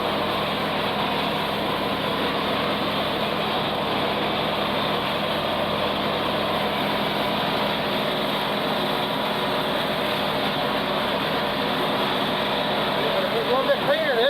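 A tractor mower cuts ripe, weedy hay, its engine droning steadily and close throughout with a constant mechanical whir, while someone talks over it.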